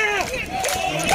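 Chonburi FC football fans cheer and shout together as a dense, loud crowd roar after a win in a Revo League Cup quarter-final match, sustained through the whole moment.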